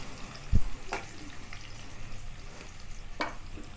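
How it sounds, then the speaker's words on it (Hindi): Green onion leaves and garlic frying in a pan over a low gas flame, a soft steady sizzle broken by a few sharp clinks of a spoon stirring against the pan. "अभी थोड़ा सा भूंजेगा ये।"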